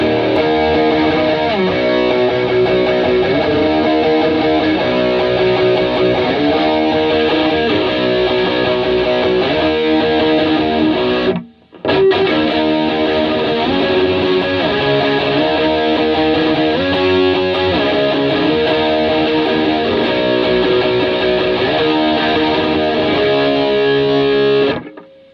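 Electric guitar played through a Rev G3 distortion pedal, a dense sustained overdriven tone with chords and riffs, loud and continuous with one brief cut near the middle.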